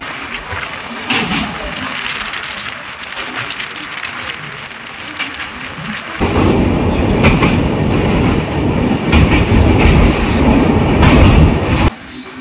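Inside a sleeper coach of a moving long-distance train from Coimbatore to Silchar, a continuous loud rumble and rattle swells noticeably partway through, with rhythmic clickety-clack of wheels over rail joints.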